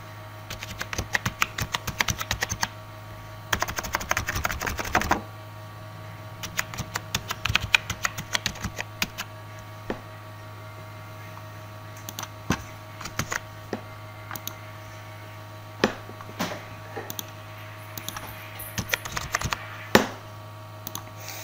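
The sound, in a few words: typing on a computer keyboard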